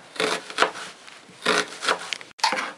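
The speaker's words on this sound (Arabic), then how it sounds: "نكون خلصت تقطيع البصل" A knife slices a medium onion into thin rounds on a board for kimchi, making a few separate rasping, crunchy strokes that come close and fairly loud in short bursts.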